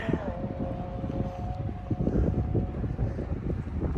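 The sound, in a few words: race car engine struggling, possible vapor lock or dirty carb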